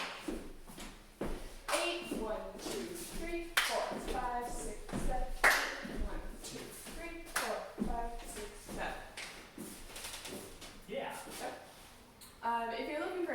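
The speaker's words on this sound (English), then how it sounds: "Another option is also clapping when you kick your foot out." Rhythmic sharp claps mixed with thumping foot stomps in a repeating solo jazz dance pattern, with a voice talking over the beat.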